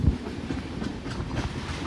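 Passenger express train on the Mangaluru to Yesvantpur route, heard from on board as a steady low rumble with faint rhythmic wheel clatter, moderately loud and unbroken.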